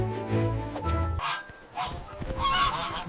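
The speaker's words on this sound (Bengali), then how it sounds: "গুস মানে একটি রাজহাঁস।" A goose honks several times as a sound effect, sharp nasal calls in quick succession, loud and close with no other sounds.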